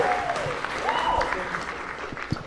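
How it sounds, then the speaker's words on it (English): Comedy club audience applauding comedians at a family-friendly Christmas show, a steady wash of clapping heard alongside someone speaking over it. "Give it up for Sam and Bob and Jeff"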